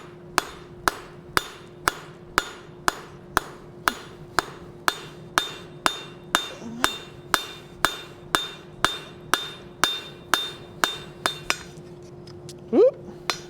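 A hammer strikes hot iron on an anvil during blacksmith forging, about two loud ringing blows per second in a steady rhythm, with a faint hiss and squeak near the end.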